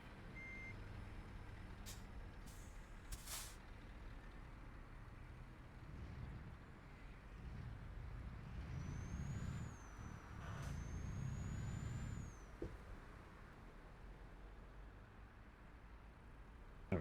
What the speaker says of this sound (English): That might be an idea if I disable the handbrake.